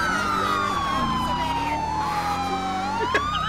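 Steady wailing ambulance siren from a video game, a single loud tone gliding slowly down then climbing again, close and continuous with engine rumble beneath and no talk.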